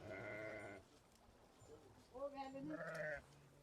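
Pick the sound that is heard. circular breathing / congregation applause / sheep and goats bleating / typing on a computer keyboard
sheep and goats bleating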